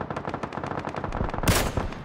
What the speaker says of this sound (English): You see that fucking shot, Aaron?